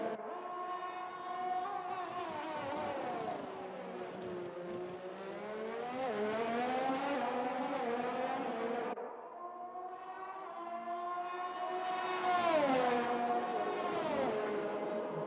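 Red Bull Formula 1 car in F1 2021 on a flying lap at the US Grand Prix, its engine note a loud, continuous high whine rising and falling with gear changes and revs, heard alone without talk.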